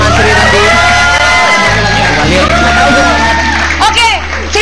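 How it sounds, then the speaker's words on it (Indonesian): A studio audience on an Indonesian television variety show breaks into loud, sustained clapping and cheering, with whoops and shouts rising over the host's voice. "Tepuk tangan dulu buat Mama Sri tadi"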